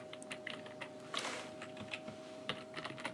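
Someone types on a computer keyboard while setting up a Python Twitter bot, with quick, irregular clusters of light key clicks and a brief denser burst in the middle, close and fairly quiet.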